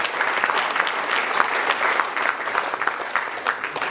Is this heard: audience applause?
yes